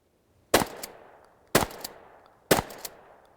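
Three loud combat shotgun blasts fire about one second apart on an outdoor range, each a sharp close report with a brief echoing tail and no talk.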